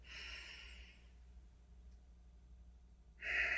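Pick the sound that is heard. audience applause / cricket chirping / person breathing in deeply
person breathing in deeply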